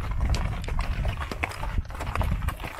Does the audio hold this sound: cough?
no